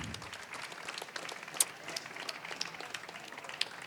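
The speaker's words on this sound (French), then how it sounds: "on va pouvoir applaudir chaleureusement Thomas aussi pour sa participation" An audience applauds a participant named Thomas at a physiotherapy running-gait analysis session, giving a steady patter of moderate clapping that lasts a few seconds, with no talking.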